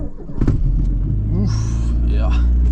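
A 1985 Porsche 924 with a 125 hp 4-cylinder petrol engine cranks and catches, settling into a loud steady idle rumble heard from inside the car, with a voice speaking briefly over it.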